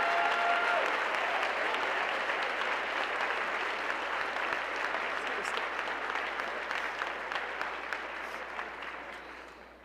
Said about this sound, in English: Please rise and give a round of applause to Joanne Miller.